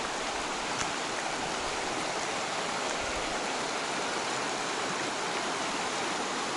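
Steady broadband rush of a river flowing past a wilderness campsite in the Cohutta Wilderness, continuous and even with no pauses, fairly close and alone without voices.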